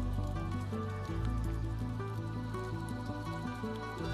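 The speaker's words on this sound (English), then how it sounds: "All that was left for us were empty streets and the rain." Rain falls on empty streets in a mountain village of terraced fields, a soft patter of drops over a low, steady background with faint tonal sounds running through, no voices.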